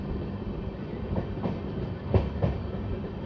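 The Hoshiarpur–Agra Cantt Express (11906), an LHB-coach passenger train, rumbles past at high speed with a steady roar and a few sharp rail clacks, heard close with no one talking.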